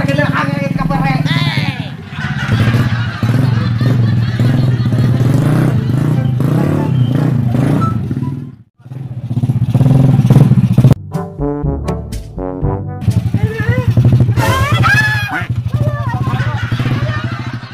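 A motorcycle engine runs steadily in a village setting, a low continuous drone held under constant overlapping voices and chatter for nearly the whole stretch, with one brief drop-out midway.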